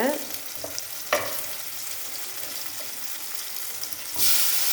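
Ingredients for sambar sauté in a pan, giving a steady close sizzle broken by a few louder stirring scrapes and a brief burst of hiss near the end.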